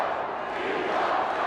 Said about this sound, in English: And people are still screaming